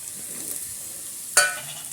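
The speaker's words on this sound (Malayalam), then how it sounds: "അതിലേക്ക് കുറച്ച് തേങ്ങാക്കൊത്തിട്ടിട്ട് ഒന്ന് വറുത്ത് പോരാം." Coconut pieces sizzle in hot oil in a pan, a soft steady frying hiss with one sharp clatter of stirring partway through.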